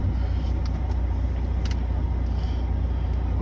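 A Volvo FH truck engine rumbles at a steady idle, a loud, close low drone with no speech over it.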